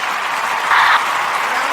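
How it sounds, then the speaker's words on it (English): A burst of crowd applause plays on a podcast: a smooth, even wash of many clapping hands, loud and steady with no voices over it, swelling slightly midway through the short stretch. "Can I get a hand clap or what?"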